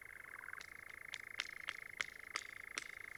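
A European nightjar churrs in a steady, high mechanical trill that drones on without pause, faint and distant, with soft clicking accents at regular intervals.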